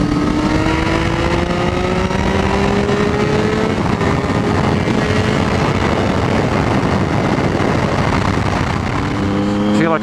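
A Triumph Street Triple and a Ducati 959 Panigale riding through Bath, England, on a Saturday morning, heard from on board as a steady engine roar with shifting pitch under heavy wind rush.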